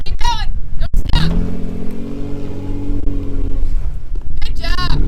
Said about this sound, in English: Throttle through this because you got to get over these.